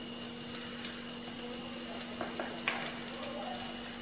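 Spices, coriander powder and turmeric, being stirred into a frying egg puff filling in a pan, giving a steady soft sizzle with faint scraping stir sounds, close and without talk.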